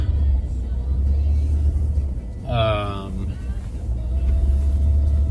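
A car drives along, heard from inside the cabin as a steady low engine and road rumble, with a short vocal sound breaking in midway.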